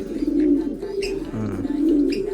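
A black pigeon cooing in a loft, a few close, deep throaty coos repeating in a slow rhythm with faint rustling and soft chirps.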